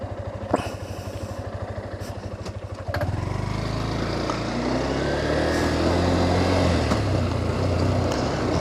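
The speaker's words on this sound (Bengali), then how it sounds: "পিছনে সম্ভবত কোনো একটা মোটর সাইকেল আস্তে আস্তে আওয়াজ শোনা যাচ্ছে" On a badly broken hilly off-road track near Rajasthali, a motorcycle engine rumbles steadily from behind, a low continuous drone that grows a little fuller over several seconds beneath rattling and jolting noise.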